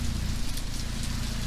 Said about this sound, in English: this rain is coming down again, starting to get harder again